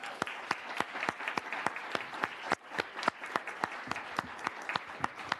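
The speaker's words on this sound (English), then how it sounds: "let's give them a round of applause as they stand" Scattered audience applause in a state House hearing room: a modest number of distinct, sharp hand claps ring out in an uneven rhythm, fairly close and quiet overall, with no talk.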